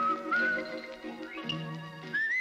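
A hooligan-looking cartoon wolf whistles a wavering, sliding tune on a black-and-white TV, with the whistle up front over soft musical accompaniment and no talking.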